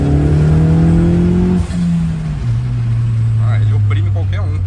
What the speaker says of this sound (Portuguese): É um motor muito potente para um carro muito pequeno e muito leve